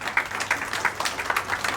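Brief burst of audience applause at a poetry book launch, many hands clapping together in a lively, dense patter at moderate distance.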